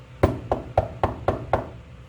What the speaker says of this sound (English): knocks on the door